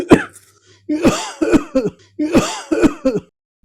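A person coughs repeatedly, a single cough followed by two quick clusters of short, harsh coughs, close and loud.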